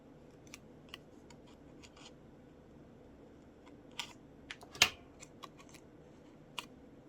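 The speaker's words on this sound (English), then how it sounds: "So I think what I will do is snip this out right away." Scissors snipping a sticky paper cutout for a small collage, a handful of quiet separate clicks and snips spread out, with one sharper, louder cut near the middle and no talking.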